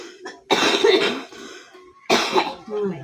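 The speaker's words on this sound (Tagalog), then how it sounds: "Gusto ko matanggal yung ubo na yan." A person coughs in two harsh, close bursts, each trailing off into throaty rasping, with a short quiet gap between them.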